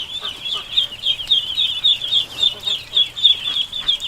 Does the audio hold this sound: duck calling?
yes